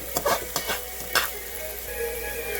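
Shrimp sizzle and fry in a pan while being stirred, with a few sharp scraping strokes up front and then a steady close crackle of frying.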